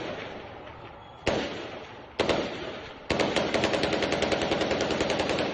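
Gunfire rings out in an armed street clash: a single sharp crack, then another, then a rapid string of echoing shots like automatic fire, moderately distant and with no voices.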